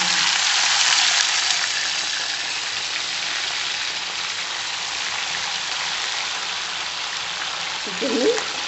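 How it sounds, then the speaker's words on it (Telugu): Chicken frying in hot oil for a chicken pickle, a steady bright crackling sizzle that stays even and close throughout, with a brief faint voice near the end. "చికెన్ని బాగా వేయించుకోవాలి నూనెలో."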